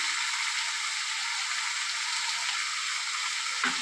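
Ridge gourd and potato, seasoned with salt, turmeric and sugar, fry in a pan with a loud, constant hissing sizzle throughout and a short scrape of stirring near the end.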